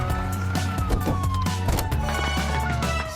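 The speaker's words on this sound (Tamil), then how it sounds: "போலீஸ் கார்கள் மின்னும் விளக்குகளும் பேரிரைச்சலான சைரன்களும் கொண்டவை." Toy police truck siren wailing with a sweeping electronic tone over steady low hum and rattling clicks, close and fairly loud, with no speech.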